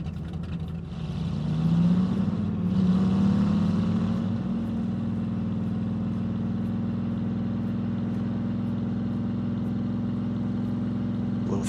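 A car accelerating during a vehicle training mission in the SimCity 4 video game, its engine whine rising in pitch over the first few seconds, then holding a steady drone, fairly loud and alone.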